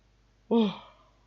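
A single human yawn, a short voiced exhale that rises quickly and fades over about half a second, close and fairly quiet.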